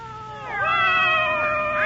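Several cats meow in overlapping, gliding cries as a radio drama sound effect, rising and falling in pitch and growing louder partway through, close and clear with no talking.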